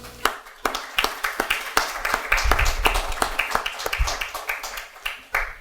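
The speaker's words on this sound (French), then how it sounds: "ça mérite une bonne main d'applaudissements" Audience at a French press conference launching a fundraising campaign gives a round of applause, individual claps distinct and moderately close, with some voices mixed in.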